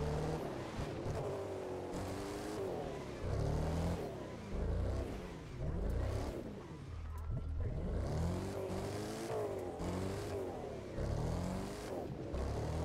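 Off-road raid car driven in The Crew 2 video game, engine note rising and falling in repeated revving surges with bumpy suspension thuds, steady and fairly loud throughout.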